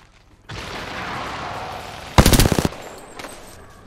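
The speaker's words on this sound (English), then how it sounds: "They're shooting at me." Apex Legends gunfire: a sharp, loud burst of rapid automatic shots cracks out in a tight cluster after a sustained rushing background, followed by fainter trailing noise.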